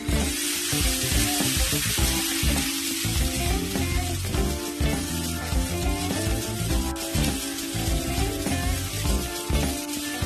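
Moong dal batter is poured into an oiled hot pan over a medium gas flame, giving a loud, continuous sizzle close to the microphone with busy crackling throughout and no talking.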